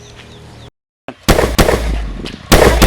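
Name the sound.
gunshots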